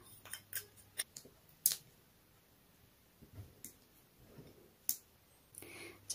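Scissors snip through a sticker during a crafting session, a series of sharp, close, crisp cuts in irregular bursts separated by brief quiet moments, with no talking.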